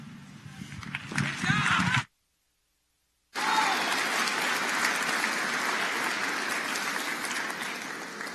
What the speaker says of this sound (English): One more round of applause for Omaha High School.